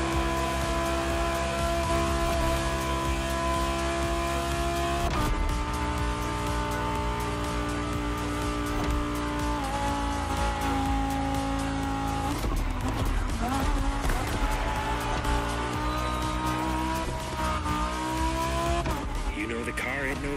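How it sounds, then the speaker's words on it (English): Lamborghini Huracan Performante in Liberty Walk custom form racing in The Crew Motorfest, its engine droning steadily with shifting revs and tire squeal throughout, overlaid by a loud continuous game music bed. "the fastest customized car of this whole Liberty Walk experience, the Huracan Performante by Liberty Performance"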